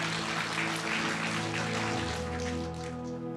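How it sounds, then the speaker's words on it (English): A church congregation applauds steadily, a broad even wash of many hands clapping that holds throughout and eases slightly toward the end, with a sustained organ-like tone underneath. "You can clap for that."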